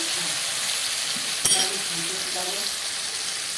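Steady sizzling of potol (pointed gourd) and potatoes frying with spices in a pan, with a brief knock of a utensil near the middle and light stirring scrapes, continuous and fairly loud with no talking.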